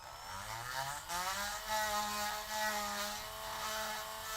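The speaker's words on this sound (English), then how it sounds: "I'm probably going to go around with the sanding bit here." A small rotary tool with a sanding bit whines steadily at high speed, its pitch shifting slightly as it grinds to enlarge an opening on an action figure, close by with no talking.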